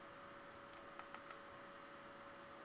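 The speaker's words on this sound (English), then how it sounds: "Oh, typing a sign." Keyboard typing in Minecraft on Xbox, a few faint quick clicks close together against a quiet background with a steady hum.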